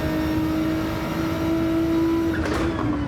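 A race car engine held at full throttle in Gran Turismo 7 gives a steady, high, sustained whine at close range, with a brief flutter near the end.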